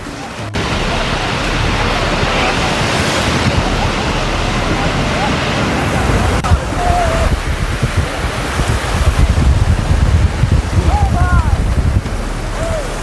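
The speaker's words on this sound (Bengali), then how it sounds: "তো চলো কিছু ঢেউয়ের রব শব্দ তোমাদেরকে শোনাই" Ocean waves breaking at Bakkhali beach in West Bengal: a continuous loud roar of surf with steady wash and rumble, wind buffeting the microphone, and faint distant cries or calls over the noise.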